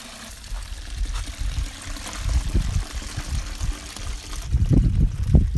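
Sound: pouring home-brewed beer through a hop filter

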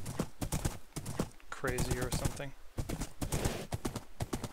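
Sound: horse hooves clip-clopping in Minecraft video game

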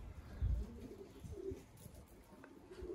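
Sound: young homing pigeon calling to its mother

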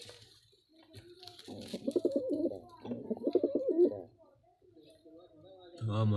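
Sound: pigeons cooing near their eggs

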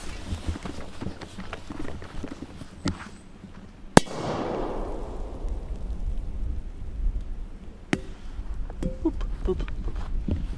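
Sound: firecracker explosion

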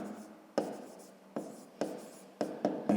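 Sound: writing by hand

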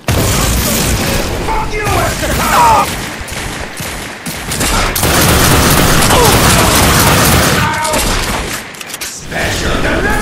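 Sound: gunfire in the video game The Darkness 2

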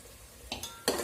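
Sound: stirring the ingredients in a cooking pot

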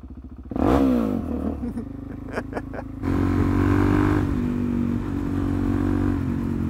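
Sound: Suzuki DRZ motorcycle riding and accelerating

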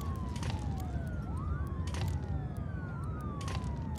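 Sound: ambulance siren in a video game

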